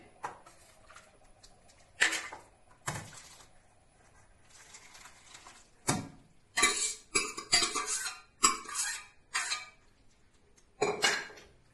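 Metal utensils scrape and clank against a pot in irregular bursts, separated by quiet pauses, as jackfruit erissery is scooped from a pressure cooker into another pot.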